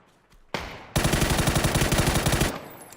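Rapid automatic gunfire in PUBG bursts loudly for about a second and a half, preceded by a single sharp shot and a brief lull.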